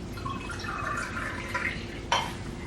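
About 250 ml of water poured for handmade Mongolian noodle dough, a light trickling, gurgling stream running into a bowl for a couple of seconds, ending with a small splash or knock.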